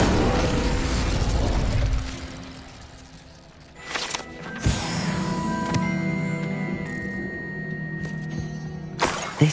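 An Incendio fire spell cast in Hogwarts Legacy: a sudden whooshing burst of flame that flares up and then settles into a sustained crackling fire, with scattered mechanical clicks and a final sharp pop. No one speaks.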